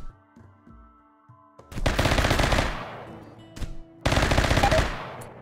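Gunfire in the video game RimWorld: two loud bursts of rapid automatic fire, each lasting under a second, follow a few softer clicks and a brief single shot between them.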